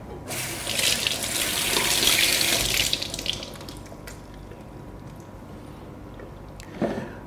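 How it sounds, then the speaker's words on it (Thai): Tap water pouring while a Hurom H100 juicer part is scrubbed with a sponge, a loud rushing stream that fades to softer trickling and scrubbing, ending with a brief clatter. "ก็ล้างทำความสะอาด ก็ใช้ฟองน้ำขัดเล็กน้อยนะครับ"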